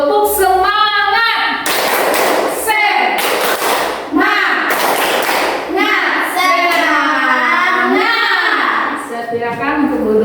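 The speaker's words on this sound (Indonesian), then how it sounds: "Dengan tepuk semangat, yang semangat ya belajarnya pagi hari ini." A fifth-grade primary school class in Indonesia performs the rhythmic 'tepuk semangat' clap chant: loud, close children's voices chant in unison, broken by several sharp bursts of group clapping.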